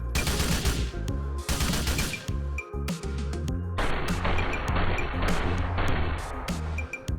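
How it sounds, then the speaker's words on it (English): Assault rifle fire in GTA 4, close and loud rapid automatic bursts that cut off briefly and then resume, each shot a hard, punchy crack with a heavy low thump, and no speech over it. "Take a look at the delay for firing an assault rifle after triggering the action"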